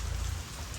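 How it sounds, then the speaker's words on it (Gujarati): Steady, dense unseasonal rain pouring down in a Gujarati village, a close, even hiss of drops on surfaces filling the short moment without any talk. "વરસાદ જોવો ખાલી"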